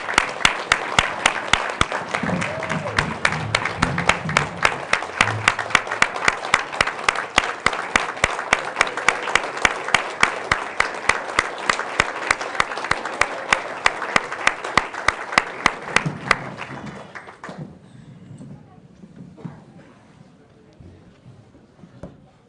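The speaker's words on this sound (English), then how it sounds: "let's give a round of applause for Mrs. Durham Phipps for all the work she does" At a Salem Community Schools board meeting, the audience gives a round of applause as steady, evenly paced claps for about seventeen seconds, with faint voices underneath, before it stops and leaves quiet room sound.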